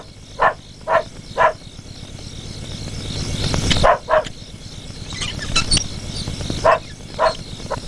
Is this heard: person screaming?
no